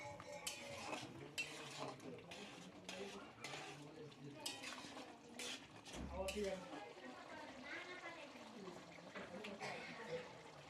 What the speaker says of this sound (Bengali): এবার ভালো করে নেড়ে চেড়ে একটু ভালো করে সিদ্ধ হওয়ার জন্য রেখে দিতে হবে মাংসগুলো